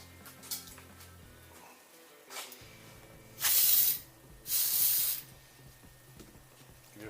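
Brake Clean aerosol brake cleaner sprayed in a workshop while a Jaguar XJ independent rear suspension fulcrum is apart, with two loud hissing bursts about a second each amid quiet shop noise.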